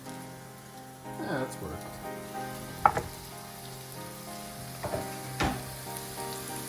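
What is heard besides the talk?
burger patty frying in hot pan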